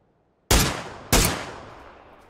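Two sharp, loud gunshots ring out in the video game PUBG, roughly half a second apart, each with a decaying echoing tail and no talking.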